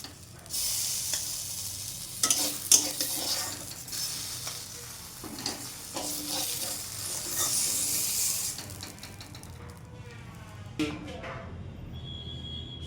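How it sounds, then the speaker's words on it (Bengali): Sajna leaf paste stirred in a pan over a gas flame, soft sizzling with scraping spoon strokes and a few knocks, quieting toward the end as the frying stops; muffled voices occur in the background. "আর একটু নেড়ে চেড়ে এরপরে নামিয়ে ফেলব"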